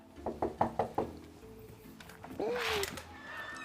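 Knocking on the door of a historic morgue house now used as a rental home: four quick raps spaced evenly, followed by a creak and a brief voice nearby.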